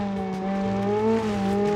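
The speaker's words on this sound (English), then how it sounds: "The engine, oh my god, the turbo is so laggy, really laggy." A rally car engine in the BeamNG driving game drones steadily with a laggy turbo, its pitch rising slowly and dipping slightly, with no talking over the sound.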